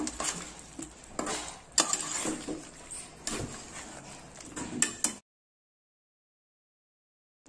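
A spoon scrapes and stirs through Telangana-style chicken curry in a pot as salt, turmeric and ginger-garlic paste are mixed in, with repeated close strokes for about five seconds before the sound cuts to silence.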